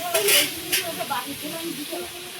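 Oil sizzling steadily as fish fries, a few sharp crackles early on and a faint murmur of voices in the background.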